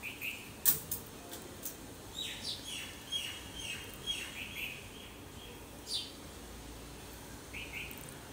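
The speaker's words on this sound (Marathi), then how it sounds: "माझ्या मागे जो पक्ष्यांचा आवाज येतो तुम्हाला," Birds chirp outside a window near a home kitchen, with faint, scattered tweets and short calls spread across a few seconds over a steady background hiss, and no one speaking.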